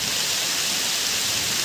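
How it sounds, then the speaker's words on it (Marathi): Heavy monsoon rain pours down steadily in the Konkan countryside near a river, a dense, even hiss of falling water with no break, no distinct thunderclap and no voices. "जोरदार पाऊस पडलाय"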